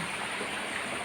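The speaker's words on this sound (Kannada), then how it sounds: "ಅಲ್ಲಿಂದ ಬಂದಂಥ ನೀರು ಇಲ್ಲಿ ಜಾಸ್ತಿ ಹೋಗುದು" Water flows steadily in a small stream, a faint, continuous broadband rush with no distinct splashes and no voices.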